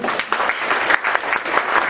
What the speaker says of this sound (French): Christophe et Léa, je pense que vous pouvez applaudir.